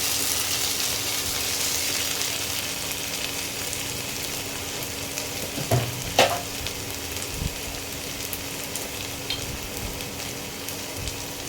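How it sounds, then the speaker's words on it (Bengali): Chicken sizzles steadily in a pan with ginger-garlic paste while being sautéed for restaurant-style chicken chakuri, a continuous close frying hiss with a few brief stirring clatters around the middle. "একটু কষিয়ে নিই।"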